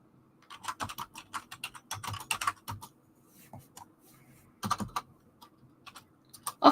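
Fingers tap on a computer keyboard nearby in irregular bursts of crisp clicks, separated by short pauses.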